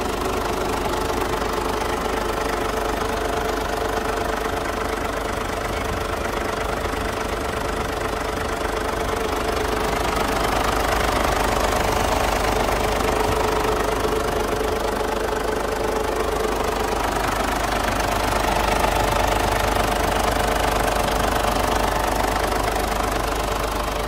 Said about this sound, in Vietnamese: Đây là tiếng động cơ đang hoạt động đây,